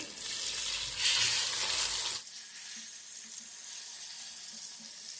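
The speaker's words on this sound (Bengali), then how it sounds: "জিরা ধনিয়া মরিচ হলুদ তারপরে রসুন বাটা সব দিয়ে কষিয়ে নিচ্ছি" Spices with cumin, coriander, chili, turmeric and garlic paste fry in a pan with a loud sizzle for about two seconds. The sizzle then drops to a quieter steady hiss with faint scraping.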